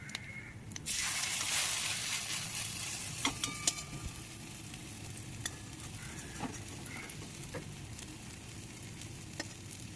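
Sesame fritters fry steadily in a little oil, giving a continuous soft sizzle with a few faint clicks from turning, close by and alone without talk.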